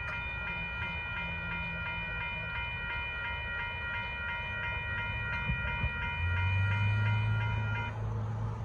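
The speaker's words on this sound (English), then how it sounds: "there goes the Kansas City Southern to make empty train thing" A northbound Kansas City Southern freight train rolls past a road crossing in Austin, Texas. Steady droning tones hang over a continuous low rumble that deepens and swells near the end, with no talk.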